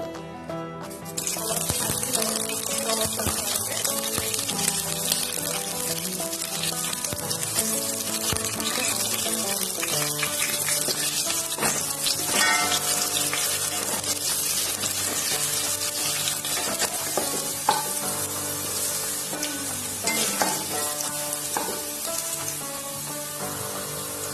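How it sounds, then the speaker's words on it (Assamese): Cut potatoes frying in hot oil in a wok, a dense continuous sizzle and bubbling that holds steady and fairly loud throughout, with scattered small pops and no voices. "মোৰ আলু ভজা হৈ গ'ল"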